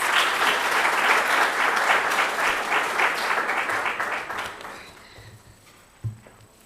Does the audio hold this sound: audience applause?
yes